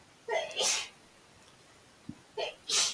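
Two sharp sneezes from a person at a tabletop role-playing game session, each a quick double burst, spaced about two seconds apart and close to the microphone, with a faint click between them.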